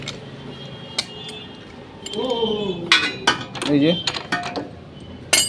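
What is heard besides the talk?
unscrewing the 22 number nut on a bike shock absorber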